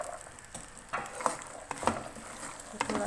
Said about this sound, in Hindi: तो थोड़ा सा फ्राई करेंगे।